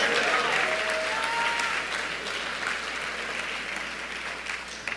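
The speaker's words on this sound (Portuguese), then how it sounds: "Aplauda e glorifique a Jesus." A church audience applauds loudly, a dense continuous wash of many hands clapping that eases slightly toward the end, with a brief faint voice over it.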